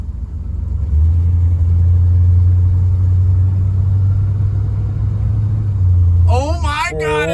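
An LS-swapped square body truck engine drones steadily and loudly with a low, even rumble, then shifts. People speak excitedly at the very end.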